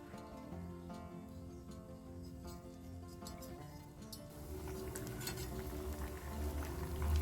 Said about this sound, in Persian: داخل تابه‌ای که روغن داغ کردید مواد برش خورده رو بچینید.